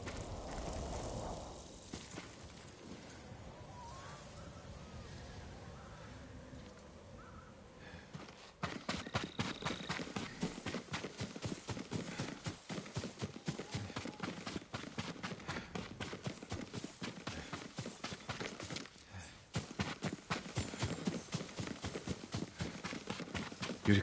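Horse hooves clip-clop steadily in Ghost of Tsushima, a quiet ambient passage giving way to a rhythmic run of close hoofbeats that continue at an even pace, broken by a brief pause before resuming.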